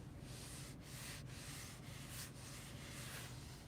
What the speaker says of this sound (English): That's the sound of the leather on the backs of the front seats.